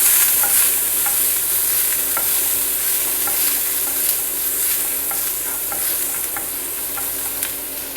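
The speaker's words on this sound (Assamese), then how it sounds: "এইখিনি ভাজি কৰি ল'ম।" Chopped garlic and ginger fry in a spoonful of hot oil in a pan for veg momo filling, giving a steady close sizzle broken by light scrapes and taps of a spoon stirring through it.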